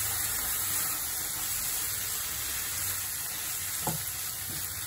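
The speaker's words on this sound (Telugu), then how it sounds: "ఇప్పుడు దీనిలో మనం క్లీన్ చేసి పెట్టుకున్నాం కదా ఈ గిజర్డ్, ఇది చికెన్ ది," Cleaned chicken gizzards frying in masala in a pan, an even, loud hissing sizzle that runs throughout, with a couple of faint clicks of a spoon late on.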